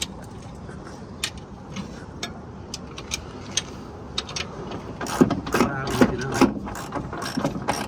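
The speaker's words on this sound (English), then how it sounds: "When you're tightening your U-bolts, you want to tighten them evenly." Ratcheting wrench tightening U-bolts during a 6-inch rear lift install on a Jeep XJ, a series of close clicking ratchet strokes with metallic clanks, growing busier and louder toward the end.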